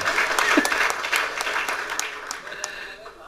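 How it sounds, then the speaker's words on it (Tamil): An audience claps at a Tamil event with actor Vivek, a crisp wash of hands that is loudest at first and thins out gradually, with a voice heard briefly over the clapping. "இவ்வளவுதான் கைத்தட்டா"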